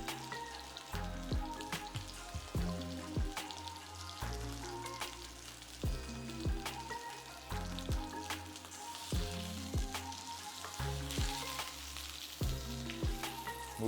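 A sous vide ribeye steak sears in butter, sizzling steadily up close, with sharp crackles and spits popping at irregular intervals over a continuous hiss and no voices.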